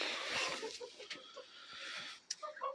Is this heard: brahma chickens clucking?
yes